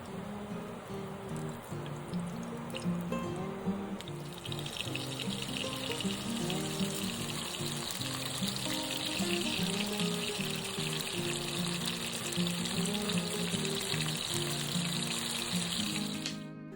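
Cauliflower florets fry Bangladeshi style in a pan, giving a steady, even hiss that thickens after the first few seconds and carries on without pause over a tonal musical background.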